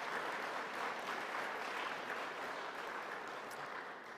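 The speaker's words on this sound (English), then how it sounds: "Just give yourselves a round of applause." A church congregation at Sunday Mass applauds in a steady, fairly distant wash of clapping that fades slightly toward the end.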